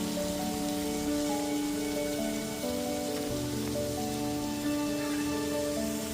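Onion paste frying in a pan over a low-to-medium gas flame gives a steady, soft sizzle, with faint clinks and tonal kitchen hum in the background and no talk.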